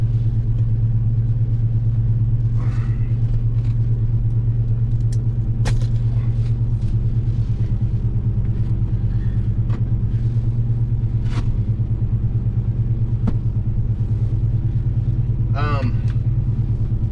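A car engine idles with a low, steady rumble, running continuously and close by, with scattered small clicks and knocks around it and a person talking intermittently over it.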